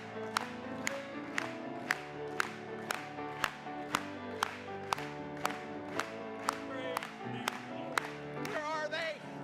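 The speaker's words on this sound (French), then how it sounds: "Acclamons pour lui ce soir." A church congregation claps in a steady, evenly spaced rhythm, about two claps per second, over sustained musical tones, and a brief voice rises near the end.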